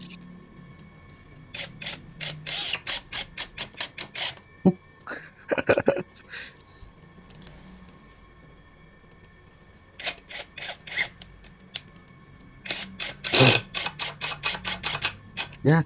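A small APR AP84+ impact wrench on variable speed 1 drives screws into multiplex plywood, giving bursts of rapid, sharp hammering clicks separated by pauses, fairly close and distinct.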